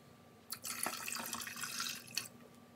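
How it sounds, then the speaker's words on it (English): Water pours from a tap into a measuring cup while preparing a brine for pickled jalapeño peppers, a short splashing stream of about two seconds heard up close in a quiet kitchen. "This is 2 cups of water."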